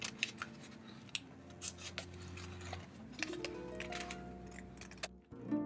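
Scissors snip through a sheet of paper being cut into a window shape, giving a series of close, crisp cutting clicks and rustles with no talking.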